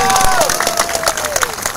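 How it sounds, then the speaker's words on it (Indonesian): Brief, loud burst of audience applause and cheering at a religious gathering, dense clapping with crowd noise throughout. "Berikan tepuk tangan yang meriah."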